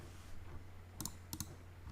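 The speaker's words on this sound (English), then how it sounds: "Forgive the typing." Quick computer keyboard typing while entering pump alarm messages, a few sharp clicks in two short bursts over a quiet background hum.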